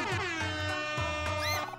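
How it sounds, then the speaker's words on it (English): A big air horn blasts in the video game OMORI, a loud, sustained brassy honk with a couple of short breaks, filling the moment with no talking over it. "Use big air horn?"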